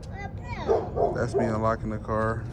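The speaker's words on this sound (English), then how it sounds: "excuse the dog that's barking" A dog barks and yips in short bursts close by outside at night near a 2000 Silverado, overlapping with someone talking.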